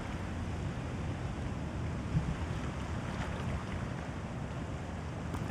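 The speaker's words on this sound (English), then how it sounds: "It is quite windy," Wind and sea wash around a sailboat at sea in the video game Following Seas, a steady, soft broadband rush of air and water continuing evenly without pause.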